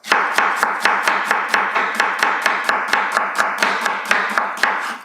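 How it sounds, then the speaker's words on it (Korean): A knife julienning onion into thin strips on a cutting board, a steady rapid run of about twenty crisp, close taps with no voices. "양파를 채 썰어서 한쪽에 준비해 놓으시고요"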